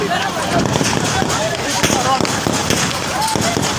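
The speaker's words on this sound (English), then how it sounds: "This is a gunshot." Gunshots during a panic as people run, heard as sharp cracks scattered through loud, continuous crowd noise and shouting voices.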